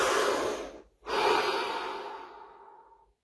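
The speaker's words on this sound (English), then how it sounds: "Deep breath." A deep breath during a guided relaxation session: a long, airy inhale, a brief pause, then a slow exhale that gradually fades to silence, close and clear with no talking.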